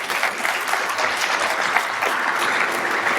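Conference attendees at a scientific Python plenary session break into dense, continuous applause, a close wash of many hands clapping for the whole stretch.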